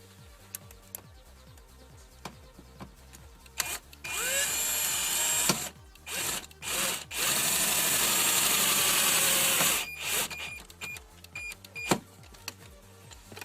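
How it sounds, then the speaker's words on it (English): A power drill whines in several long bursts into a vehicle's metal chassis, with ratcheting clicks and brief pauses between runs, close and loud. "Just drill that straight into the chassis."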